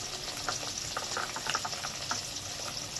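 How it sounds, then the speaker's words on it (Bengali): Paneer frying in a hot pan gives a steady, dense crackle and bubbling sizzle, close and continuous throughout. "ওদিকে পনিরটা ভাজা হচ্ছে, চটপট চটপট আওয়াজ হচ্ছে।"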